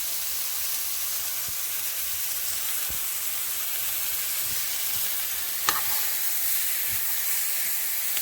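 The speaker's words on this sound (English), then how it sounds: "this is 1 heaping tablespoon of butter. I'm gonna put that in there." Butter sizzles steadily in a hot pan on a fire while chicken and squash cook, a constant frying hiss with a brief sharp crackle partway through and no talking.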